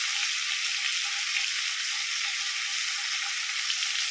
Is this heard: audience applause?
no